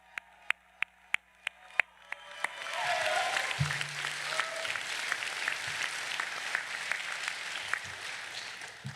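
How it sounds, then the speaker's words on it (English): Audience applause at a university public policy graduation ceremony rises after a few sharp taps into steady, broad clapping from a large crowd, sustained and moderately loud through the rest. "Another round of applause for Anna Thomas."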